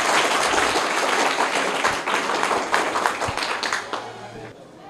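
Applause from a school quiz audience for a class 8 contestant who answered correctly, a dense patter of many hands that gradually thins and fades out toward the end.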